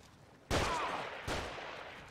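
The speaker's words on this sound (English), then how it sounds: "Where are they shooting from?" Two loud gunshot bursts in The Evil Within, one at about half a second and another near the middle, each broadband crack decaying into a long echoing tail.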